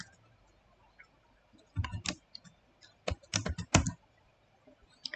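A name typed on a computer keyboard, a few scattered close key clicks followed by short quick bursts of tapping with pauses between, clear and crisp against a quiet room with no talking.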